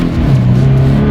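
A 2020 Subaru BRZ sports car's engine pulls steadily under acceleration, a loud, continuous, close drone with a rising tone and no talking over it.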